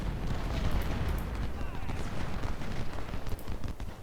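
Union troops and artillery open fire in the video game Ultimate General: Civil War, a dense, continuous crackle of musketry mixed with heavier booming shots, loud and unbroken throughout.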